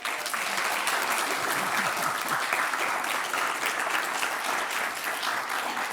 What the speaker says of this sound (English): Maybe another round of applause for our lovely nuns.